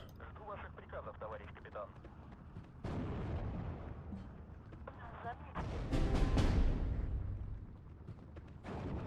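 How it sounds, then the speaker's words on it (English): Artillery barrage in the Steel Division 2 war game: a series of booming explosions and blasts, one heavy impact cluster midway, with scattered smaller detonations and rumbling between them. "That's a lot of artillery, that's not very good."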